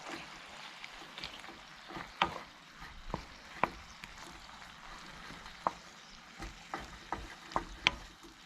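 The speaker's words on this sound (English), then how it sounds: "I'm just gonna brown this up" Beef browns in a pan for a stir fry, a quiet, steady sizzle broken by repeated sharp clicks and scrapes as it is stirred, heard close and alone.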